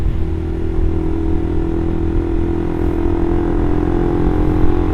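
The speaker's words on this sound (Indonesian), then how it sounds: "Gue sih sebenarnya suka banget sama ini knalpot, suaranya tuh adem." Sustained, loud engine drone from a Suzuki GSX R150 with an R9 Mugello exhaust, held steady and close throughout with a faint clattery edge.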